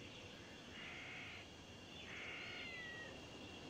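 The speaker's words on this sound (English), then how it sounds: "I hear a cat." A cat meows faintly twice in the video game Tales of Xillia 2, thin high cries set over a steady background hum, with no voices.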